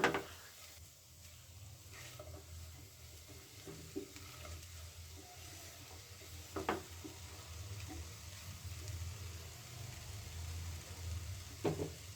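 Bread chowmein cooks in a pan with a low, steady sizzle, broken by occasional scraping clicks as it is stirred and mixed.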